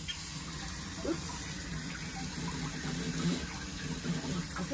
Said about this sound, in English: turn on my water and make sure it's nice and warm.